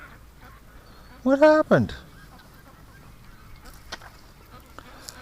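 An injured duck with a hurt left leg honks loudly in a barn, two short nasal calls in quick succession, followed by quieter barn ambience with a person speaking briefly.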